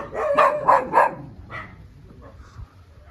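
Dogs bark at a house in Areguá, Paraguay, a quick burst of three or four loud barks followed by a fainter one and then quiet outdoor ambience.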